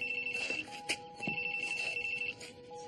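A cell phone rings inside a house, a steady electronic ringtone tone sustained through the clip with a few brief clicks and bumps, fairly close and alone with no talk.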